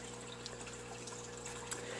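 Aquarium tank water pours into a bag in a steady, continuous liquid rush with a faint pump-like hum underneath, close and even throughout with no talking.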